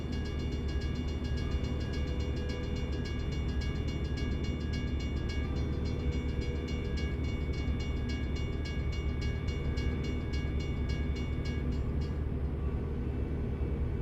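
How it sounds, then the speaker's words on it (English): In American Truck Simulator, a train rumbles steadily nearby with a rhythmic rolling clatter and faint tonal whine, continuous and fairly loud for the whole stretch, with no voices. "I think a train is coming this way."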